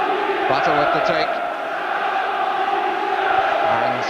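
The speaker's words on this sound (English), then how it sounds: "And some good support from the home crowd." Home crowd at a 1993 FA Cup fourth-round football match between Norwich City and Tottenham Hotspur, giving a continuous distant roar of support under a commentator's voice.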